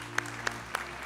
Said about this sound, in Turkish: Sizi alkışlarla yerinize uğurlayabiliriz.